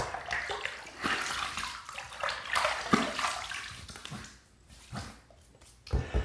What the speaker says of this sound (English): I'm gonna take this little bit of bloom water here, just put that in the sink